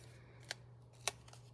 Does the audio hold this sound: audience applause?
no